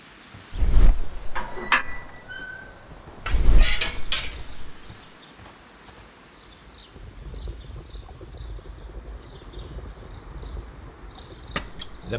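A ventilation system starts up in the Sherlock Holmes video game: two heavy mechanical clunks a few seconds apart, then a low whooshing hum that slowly builds.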